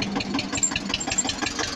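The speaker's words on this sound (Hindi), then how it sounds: "जो है हमारा छोटू ट्रैक्टर" Small mini tractor at a cement agency idles up close with a rapid, evenly pulsing diesel chug and a slight knocking rhythm, no voices.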